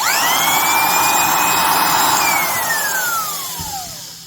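Makita 3608B compact router motor spinning up to a loud, high steady whine, then winding down as it coasts to a stop, heard close with no talk.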